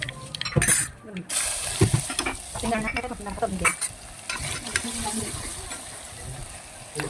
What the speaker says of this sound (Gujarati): ડુંગળી સાંતળી લઈ તો ડુંગળી સંતળાઈ જાય પછી એમાં નાખતા આલુ